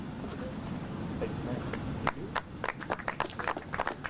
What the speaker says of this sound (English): Big round of applause for Jonathan.